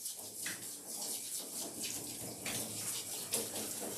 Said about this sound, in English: Now I'm going to rinse over his eyes.